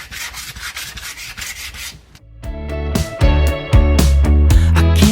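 Sandpaper rubs gently over dried, painted wood for homemade Canada Day decor, giving a close scratchy swishing for about two seconds. Loud instrumental music then takes over.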